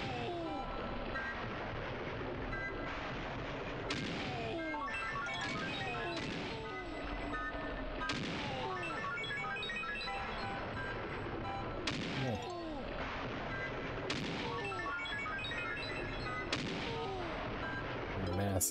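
Repeated booming cannon blasts in a Donkey Kong 64 cannon minigame, firing every second or two, each a sharp crack with a rumbling tail over busy game music and effects.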